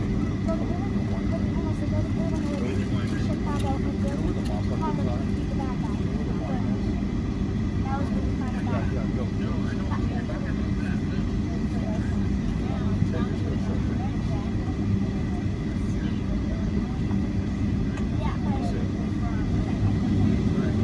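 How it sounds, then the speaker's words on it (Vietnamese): An Airbus A300 airliner at Los Angeles holds position before takeoff, its engines a steady, even drone lasting the whole stretch, with a voice talking over it throughout. "Máy bay đã vào vị trí để chuẩn bị cất cánh rồi quý vị, chờ không lâu cho phép cất cánh thì máy bay cất cánh."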